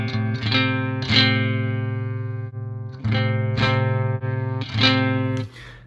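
Clean electric guitar chords through Neural DSP Archetype strummed in short bursts, a bright, sharp, trebly tone ringing out between strikes, played alone.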